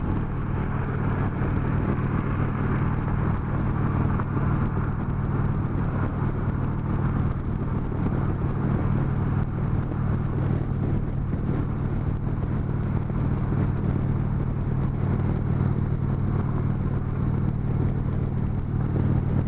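Steady, loud low-end engine drone from a 2019 Indian Chieftain Dark Horse motorcycle with its ThunderStroke V-twin, heard while riding, blended with continuous wind rush across the microphone and no talk.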